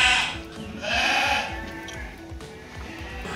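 Dorper sheep at a farm pen in Yogyakarta bleat in a loose chorus, several overlapping calls rising and falling over a steady barnyard background.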